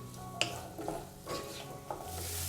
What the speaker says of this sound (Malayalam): മീഡിയം ഫ്ലെയിമിൽ വെച്ചിട്ട് നല്ലതുപോലെ ഒന്ന് വഴറ്റിയെടുത്താൽ മതിയാവും.